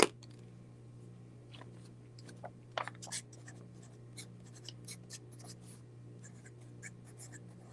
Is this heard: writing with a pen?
yes